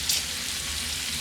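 A ribeye steak sizzles steadily in a hot pan during basting, a close, even hiss of frying fat with no talking.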